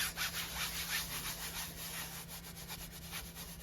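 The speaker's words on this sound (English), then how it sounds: "then I'll rub it down with my hands" Hands rubbing down varnished metallic fabric glued onto a wooden coaster, a continuous close, even rasping scrub with a rhythmic back-and-forth pulse and no voices.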